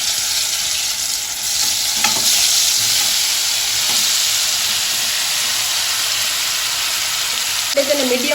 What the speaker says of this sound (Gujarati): સો પનીર મેરિનેટ થઈ ગયું છે, ઓલમોસ્ટ 10 મિનિટ્સ થઈ છે. હવે આપણે એને ફ્રાય કરી લઈશું.